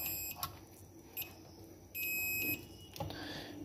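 Faint electronic beeps from a multimeter continuity test on the charging circuit of a Jio F320B phone, several short tones and one longer steady beep over low room noise.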